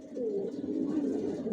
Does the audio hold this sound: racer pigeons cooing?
yes